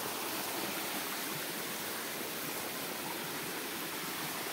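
Clear water flows in a mountain stream on a forest hiking trail, a steady broadband rush of moderate, even loudness with no breaks and no talking.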